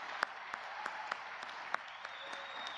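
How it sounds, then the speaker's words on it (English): Audience applause at a college commencement ceremony, a steady wash of clapping from a large crowd with a few sharper claps standing out. "applause."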